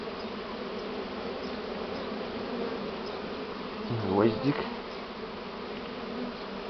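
Honey bees from a newly hived first swarm buzz steadily at an apiary landing board, a dense continuous hum that holds throughout, with a brief louder pass near the middle and a short spoken word.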